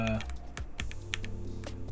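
Arrow keys pressed on an Epomaker EK68 plastic budget keyboard to adjust its lighting, giving a run of close, crisp key clicks in an irregular rhythm with some low background hum.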